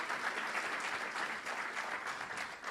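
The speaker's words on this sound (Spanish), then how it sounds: "¿Cuánto le da un aplauso fuerte a Cristo?" A church congregation gives a sustained round of applause during a Sunday service, a steady wash of many hands clapping, fairly distant and even throughout.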